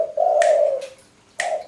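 Sharp finger snaps ring out beside a dove, a turtle dove or spotted dove, which answers with a close, soft coo between the snaps, the snaps crisp and a few in number.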